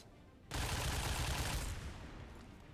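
An M249 machine gun fires in a video game as one dense, loud, continuous burst that starts abruptly and runs for more than a second, then trails off into softer noise.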